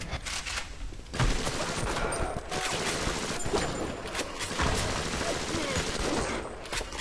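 Rapid bursts of gunfire from a player shooting in the video game BioShock, loud and dense, nearly continuous across the whole stretch with brief choppy gaps, gunshots overlapping one another.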